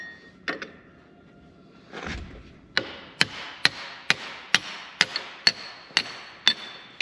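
A hammer strikes a wedge while a dead Nissan forklift is taken apart, giving about ten sharp metallic blows in a steady beat, close and loud, after a few scattered knocks and a scrape.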